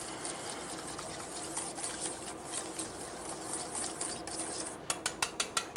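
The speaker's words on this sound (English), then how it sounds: "Whisk that up very well" A starch mixture whisked in a bowl, a steady fast scratchy rattle running throughout at moderate level, ending in a few sharper distinct taps as the whisk knocks the rim.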